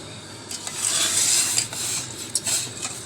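Mushrooms blanching in a pot with fermented fish sauce give off a steady broadband hiss of simmering liquid, with a few scraping stirs and soft clinks standing out near the end, close by and moderately loud, with no talk.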